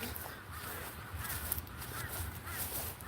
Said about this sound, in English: They're really beautiful, but they're pretty, they're quite scary cockatoos actually.